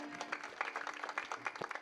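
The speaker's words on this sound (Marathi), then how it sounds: "टाळ्या वाजवा" A brief spell of audience clapping at a devotional talk, rapid uneven hand claps sounding fairly faint and distant for under two seconds.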